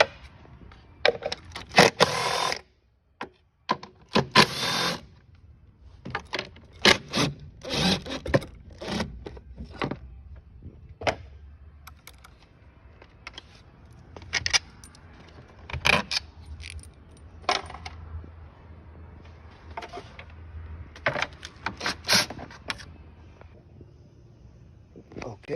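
A wrench loosening 10 mm nuts on the battery tray of a VW GTI, giving close metallic clinks, scrapes and taps in irregular bursts over a low hum.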